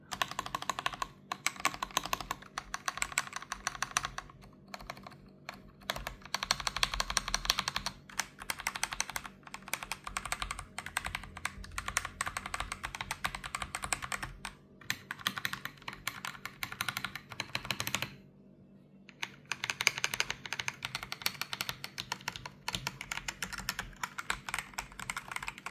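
Rapid, continuous clacking of an AJAZZ AK992 mechanical keyboard with brown switches being typed on up close, with a brief pause partway through before the keystrokes resume.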